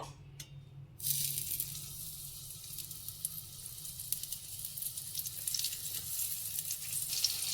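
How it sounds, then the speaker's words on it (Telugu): Eggplant pieces frying in oil in a pan, a soft continuous sizzle that starts after a moment of quiet and holds steady at low volume, with no talk. "ఇప్పుడు మనం వీటన్నిటిని ఫ్రై చేసుకుందాము."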